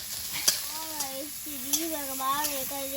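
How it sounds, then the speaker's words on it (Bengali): Chopped onion sizzles in hot oil while being stirred, a soft steady hiss with a few spoon clinks, as a voice talks over it. "তেলের মধ্যে পেঁয়াজ কুচি দিয়ে দেবো আর দেবো একটু কাঁচা লঙ্কা কুচি"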